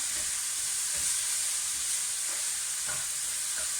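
Vegetables sizzle steadily in a hot pan, a constant bright frying hiss with occasional soft stirring knocks and no talking.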